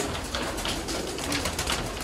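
A flock of pigeons kept by a fancier coos softly and continuously up close, the low murmuring calls blending into a dense, steady background.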